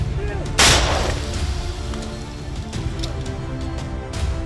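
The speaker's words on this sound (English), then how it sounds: "Ukraine's armored forces locate and target the 2 tanks before aiming at the moving vehicles with Stugna-P anti-tank guided missiles." Stugna-P anti-tank guided missile striking Russian armored vehicles in a field in Donetsk Oblast: one loud, sharp blast booms early, followed by a rumbling tail and fainter distant thuds.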